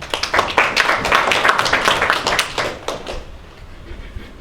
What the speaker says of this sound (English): Let us give him a clap.